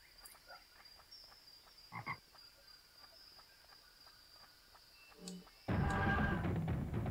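A toad croaks in the video game Avatar: The Last Airbender, a few faint, brief croaks over a quiet night ambience with a steady insect-like hum, before a loud noisy burst takes over.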